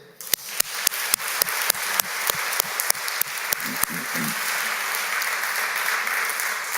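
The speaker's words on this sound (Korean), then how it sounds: "그 박수 소리가 어젯밤보다 커졌어요" A revival meeting congregation claps in a steady, rhythmic beat at first, sharp regular hand strikes over a dense wash, then melts into sustained, loud applause filling the room.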